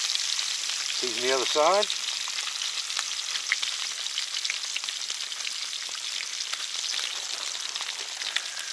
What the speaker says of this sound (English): Flip them over one time in that hot grease.